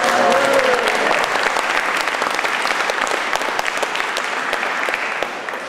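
Sustained applause from an audience at a slam poetry event, dense clapping that stays loud for several seconds before gradually thinning out.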